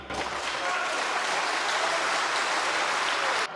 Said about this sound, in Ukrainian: Звільненому ВО міністра оборони Михайло Ковалю депутати аплодували